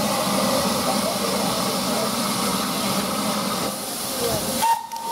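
The Urie Class S15 No 506 steam locomotive at Leicester North hisses loudly with escaping steam, a broad continuous roar close by, ending in a brief whistle tone before cutting off.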